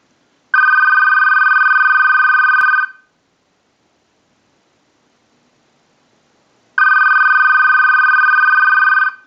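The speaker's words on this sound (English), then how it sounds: "send a ring cycle like you were getting a call" A loud electronic ring from an AT&T 2500 desk telephone under repair sounds for about two seconds, falls silent for several seconds, then rings again in a steady cycle.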